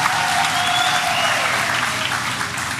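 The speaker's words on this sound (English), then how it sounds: "Let's give them a great round of applause as well." A crowd at a DA political rally in eThekwini applauds newly introduced councillors with dense, continuous clapping, loud and even for the whole stretch, with a little cheering mixed in.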